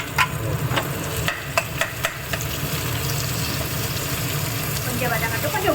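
Brinjal and tomato sautéing in a pan for kara kuzhambu: a steady close sizzle with several spoon scrapes and clicks early on, then a continuous fry with faint voices in the background.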